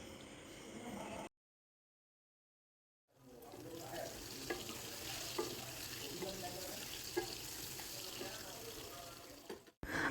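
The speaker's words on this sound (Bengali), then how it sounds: "এখন আলু আর ডিম একসাথে করে ভেজে নেবো" Oil sizzles steadily as potatoes and boiled eggs fry together in a pan, with scattered crackles and pops; a short silent gap comes near the start.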